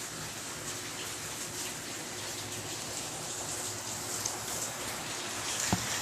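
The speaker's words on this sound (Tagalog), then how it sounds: "Kasi talagang maulan." Heavy rain in Manila pours in a steady, dense hiss throughout, with a faint thump near the end and no voices.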